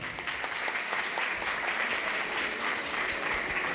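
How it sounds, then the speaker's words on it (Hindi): A seated crowd at a student felicitation event in Malout, Punjab, gives a welcoming round of applause for a guest, a steady, moderately loud patter of clapping that carries on evenly throughout. "पहले तो मैं पंजाब की तरफ से आपका वो तालियों से स्वागत करता हूं सर"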